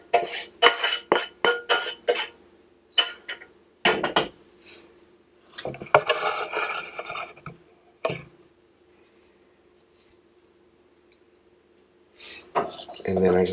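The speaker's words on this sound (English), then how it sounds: "I just put this in their little mixing bowl here." Dog food is mixed in a mixing bowl, with a burst of quick clinking and scraping strokes, then scattered knocks and a soft rustle between pauses, close by, while a person talks.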